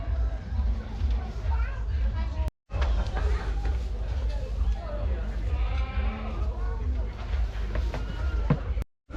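Goats bleating at an agricultural show in Scotland, several wavering bleats up close amid crowd chatter and someone talking, with brief cutouts.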